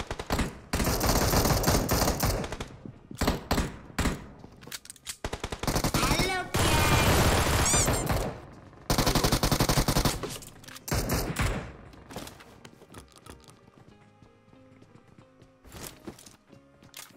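A battle royale video game erupts in loud gunfire, with long bursts of automatic fire and sharp single shots coming in intense waves before thinning to scattered, quieter shots.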